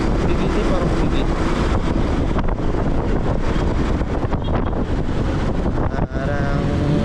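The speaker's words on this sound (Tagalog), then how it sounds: "malakas kasi yung hangin" Strong wind buffets the microphone while riding a motorcycle through a subdivision, a loud continuous roaring rush with gusty fluctuations blended with engine noise; someone talks beneath it.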